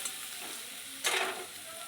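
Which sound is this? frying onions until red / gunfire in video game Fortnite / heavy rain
frying onions until red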